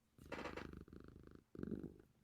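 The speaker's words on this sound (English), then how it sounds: "Moo, can you purr?" A pet cat purring, a very faint low rhythmic rumble in three long pulses, close and alone with no talking over it.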